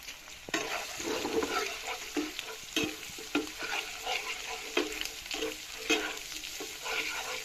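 An egg fries in a pan with radish greens while a spatula repeatedly scrapes and turns the mix. A soft, steady sizzle runs under frequent rhythmic clinks and scrapes, fairly quiet and close.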